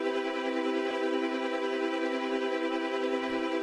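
Redstone torch in the horror game Raldi's Crackhouse gives off a steady, faint droning hum with layered tones, continuous and unchanging with no talk.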